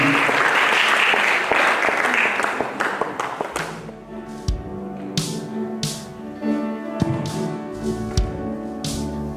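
A church congregation bursts into loud applause that fades after a few seconds, giving way to sustained musical tones and scattered claps or taps during worship.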